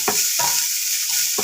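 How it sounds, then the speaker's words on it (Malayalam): Chopped panikoorka leaves frying in a pan for pachadi, a steady hiss of sizzling with three quick stirring scrapes of a spoon, close and clear. "അത് മാറുന്നവരെ ഒന്ന് ഇളക്കി കൊടുക്കുക."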